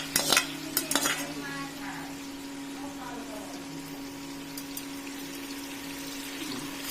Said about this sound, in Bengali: এই যে এখন নাড়ছি